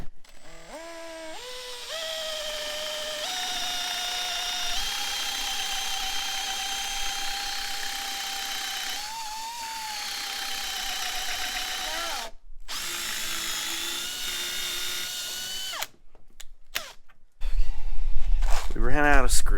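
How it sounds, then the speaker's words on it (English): A power drill whirs steadily at close range while boring into a cabinet door, its pitch rising and dipping, with a brief louder burst of noise near the end. "We just hook our drill to it."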